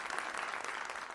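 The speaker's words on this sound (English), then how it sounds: "Let's give them a round of applause." Dense applause from a theater audience after a stage scene at a fringe festival production, a steady even wash of many hands clapping with no voices on top.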